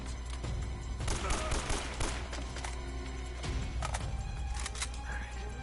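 Automatic AK assault rifle fire in Uncharted: Drake's Fortune, dense sustained bursts of gunfire with repeated thumps running through the whole stretch, loud and close, layered over busy game noise.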